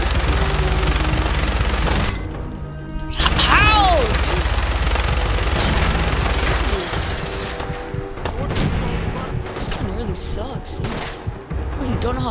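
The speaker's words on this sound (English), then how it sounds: "I just grabbed the minigun" A minigun in Fallout 4 fires in long, loud, dense roars. They break off briefly, then start again, with whirring tails and clanking as the barrel spins down.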